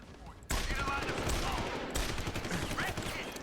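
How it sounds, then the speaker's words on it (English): Rapid gunfire in Deus Ex: Human Revolution as an enemy is shot, a dense sustained burst of shots that stops briefly and then resumes, ending on a louder crack. "how many bullets does this guy take? I shot 3 shots into this guy"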